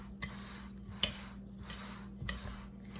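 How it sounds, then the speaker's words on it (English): Metal spoon stirring minced dried onions into a bowl of cooked burger filling with bacon bits and seasonings, giving a few light scraping clinks against the bowl, a sharper clink near the middle and another toward the end. "Sprinkle that all around in there. Give that a good stir."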